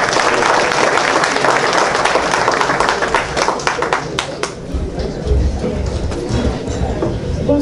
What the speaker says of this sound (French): On applaudit Ismara Fontaine.